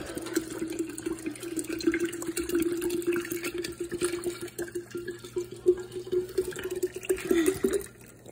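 Water pours steadily into a one-gallon jug for lemon water in a home kitchen, a continuous hollow gurgling stream whose pitch climbs as the jug fills, with faint household noise and no speech.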